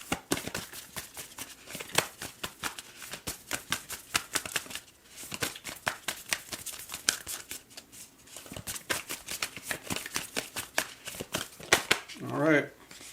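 Oracle cards are shuffled and drawn from a deck in a rapid run of crisp riffling clicks and snaps. A person talks over the handling, and a brief vocal exclamation comes near the end.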